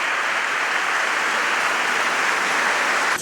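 An audience gives loud, dense applause to a band at a conference event, a continuous wash of clapping that stays steady for the whole stretch.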